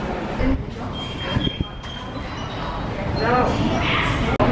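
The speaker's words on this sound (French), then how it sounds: "Donc voilà, on est dans le métro." A metro train rumbles steadily through a crowded subway, with wheel squeal and a brief high whine over the dense, close noise.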